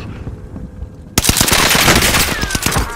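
Rapid automatic gunfire from the shooter video game Call of Duty: Modern Warfare, a loud, dense burst of overlapping shots that breaks in sharply after a second of quiet and keeps rattling to the end.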